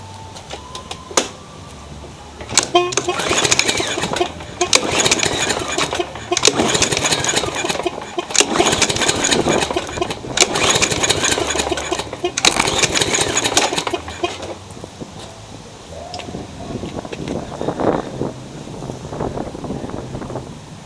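A Toro lawn mower engine runs rough and unevenly nearby, failing to reach full revs, surging and sagging in rough bursts, dropping back to a sputtering idle between pulls, with wind buffeting the microphone.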